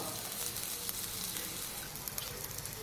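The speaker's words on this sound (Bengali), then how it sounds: "তেল গরম করে শুকনো লঙ্কা, তেজপাতা, জিরা, টমেটো, কাঁচা লঙ্কা," Dry chilli, bay leaf, cumin, tomato and green chilli sizzle in hot oil for an eggplant fish curry, a steady faint crackling hiss with tiny pops, close by and without talk.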